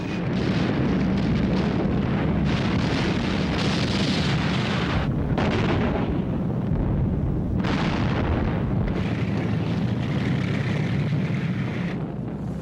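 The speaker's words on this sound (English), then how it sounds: "The Soviet T-34s drove into the German lines and opened fire at point-blank range." Tank gunfire and explosions from the Battle of Kursk, with Soviet T-34s firing at point-blank range: a loud, continuous roar of blasts and rumbling that barely lets up, with a few brief drops between booms.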